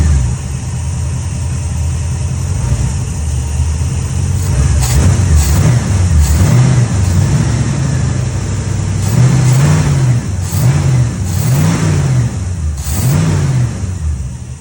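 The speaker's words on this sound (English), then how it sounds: "Let's give her some revs" A cold 1965 Ford F100 V8 fitted with a freshly swapped Holley 650 carburetor idles steadily, then takes several short blips of the throttle that rise and fall in pitch, close and loud with no talking.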